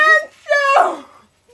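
A puppy whimpers and whines in two short, close bursts, the second trailing into a softer moan before quiet.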